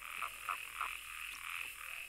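Toads croak at their breeding ponds, several short calls in an uneven series over a steady background drone.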